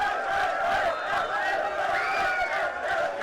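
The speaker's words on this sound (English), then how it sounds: "Crowd going crazy." Crowd at a boys high school soccer match, Central versus Memorial, roaring and cheering in a steady, loud wash of many voices that holds throughout without a break.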